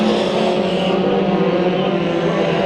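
Mini stock race cars roar together at Bakersfield Speedway during a heat race, a dense, steady engine drone held at full throttle close by without letup.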